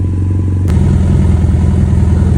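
A GS800 motorcycle with a Rotax engine idles steadily, then a sharp transient leads into a fuller, louder running engine note with a rhythmic mechanical throb that continues close and alone.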